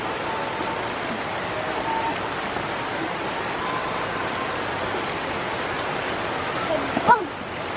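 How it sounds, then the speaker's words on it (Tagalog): Heavy rain pours down steadily outdoors in the rural Philippines, a dense, even hiss throughout with a brief louder knock near the end. "lakas ng ulan"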